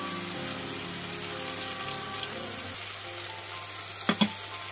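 Blended cashew, melon seed and yogurt paste sizzles steadily in a hot pan, with a continuous close frying hiss and a brief clatter of stirring near the end.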